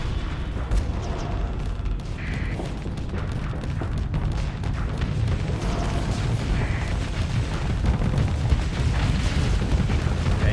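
Weapons fire from an Osprey ship in the space combat game Starsector, a continuous rumbling barrage of booms and bursts holding steady and loud for about ten seconds.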